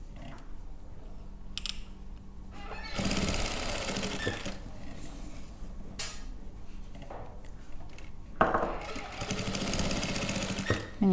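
A sewing machine stitches the edges of quilted squares for a Kazakh khan blanket, running in two long loud bursts with quieter gaps of handling and faint speech between them.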